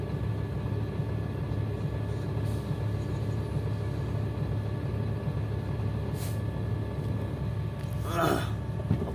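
Trucks idle and roll slowly at a pier in the Manila port, a steady low diesel rumble with brief hisses of air brakes near the end.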